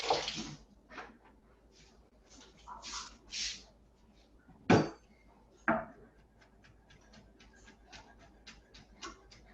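A tap runs briefly for a quick rinse in a pizza-making workshop kitchen, giving short, irregular bursts of running and splashing water with a few sharp knocks in between, in a quiet room.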